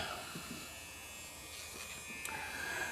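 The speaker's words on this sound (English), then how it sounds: "It says electric sander. It can go faster." A small electric sander runs at high speed, giving a faint, steady buzzing whir that continues throughout with no talking.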